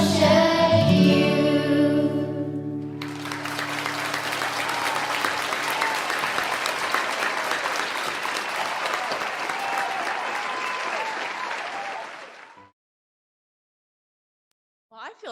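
A church service audience breaks into sustained applause, dense and steady for about ten seconds after a brief stretch of sustained tones, then stops abruptly into silence.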